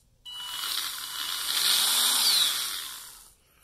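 The electric motor of a lawnmower prototype whirs for about three seconds with a bright, high whine, rising and then winding down as it stops.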